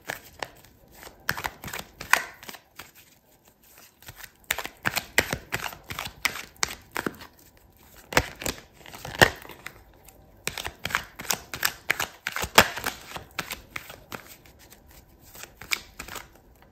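A tarot deck shuffled by hand in bursts of quick crisp riffling and flicking, close and fairly loud, pausing briefly between rounds with no talking.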